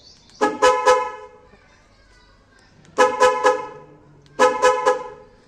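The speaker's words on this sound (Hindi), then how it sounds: "सो ऐसी आवाज़ है हॉर्न।" The horn of a 2013 Hyundai Grand i10 Sportz diesel, fitted with a Creta horn, honks in three bursts, each a quick cluster of loud, close toots separated by short pauses of quiet.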